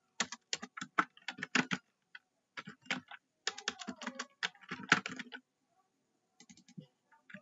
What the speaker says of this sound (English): then type text on our keyboard